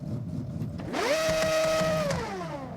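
The Mazda 787B four-rotor engine in Forza Horizon revs up into a sustained, piercing high-pitched scream, holding for about a second before easing down over a constant background hum.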